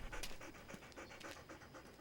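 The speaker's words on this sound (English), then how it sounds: "He's panting." A hot dog pants steadily at close range, a quick rhythmic series of breathy huffs running continuously with no talking over it.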